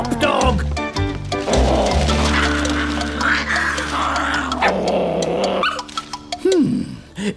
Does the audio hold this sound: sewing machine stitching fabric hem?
no